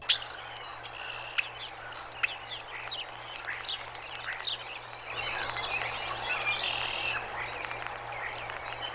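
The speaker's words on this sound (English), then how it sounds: "But a beautiful starling has flown in." A starling calls at a bald eagle nest, giving a run of sharp, rising whistles and chirps repeated about once a second, fairly near over a steady low hum, then turning into a denser, busier chatter of warbles and clicks.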